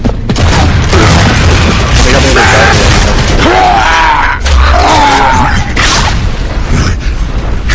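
Grenade blast in Gears of War 3 team deathmatch, a loud boom among ongoing gunfire and combat noise, with players shouting over it.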